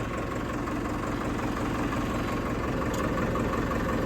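A tractor engine idles in a steady, unbroken low rumble with a constant vibrating drone, close and alone with no voices.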